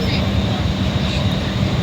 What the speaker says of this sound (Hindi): अभी तो ट्रेन में हूँ